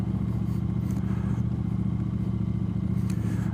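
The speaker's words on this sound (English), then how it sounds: "all of a sudden there's the turbo." Honda CX500 Turbo motorcycle engine pulling hard at full throttle, a steady pulsing drone with clattering mechanical noise and no voices, held throughout as the turbo comes on.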